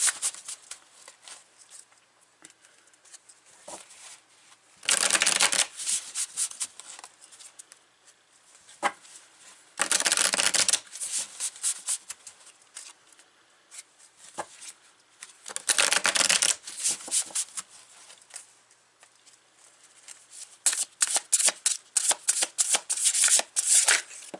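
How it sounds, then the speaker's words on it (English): Sacred Creators Oracle cards being shuffled, with loud bursts of riffling and bridging around 5, 10, 16 and 21 seconds, separated by quieter sliding and handling of the deck; no talking. "Okay, so we're going to take some cards. I'm taking from the Sacred Creators Oracle."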